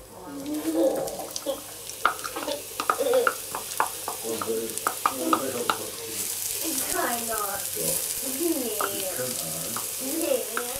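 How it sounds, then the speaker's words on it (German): Onions go into a pan of hot oil and fry with a steady close sizzle, broken by frequent stirring scrapes and clatter, with some faint running water in the background. "So, Pfanne ist jetzt warm mit dem Öl, jetzt kommen die Zwiebeln damit rein."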